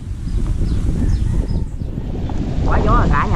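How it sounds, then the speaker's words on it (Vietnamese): Strong wind buffets the microphone outdoors near a giant beehive at an airfield, a loud continuous low rumble throughout with faint voices and chirps toward the end. "Quá gió rồi cả nhà ơi."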